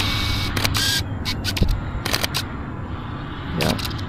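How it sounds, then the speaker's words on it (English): Sony 500mm f8 reflex lens autofocus hunting on a camera, heard as bursts of faint whirring and clicking motor noise in short repeated pulses against a quiet outdoor background. "It will focus hunt."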